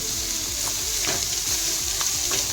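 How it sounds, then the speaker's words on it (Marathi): Tender jackfruit curry is mixed in a hot pan, giving a continuous soft sizzle under repeated scraping spoon strokes, close and even throughout. "आपण याच्यामध्ये आता ही फणसाची भाजी आपण आता ॲड करणार आहोत चांगलं मिक्स करून घ्यायचं"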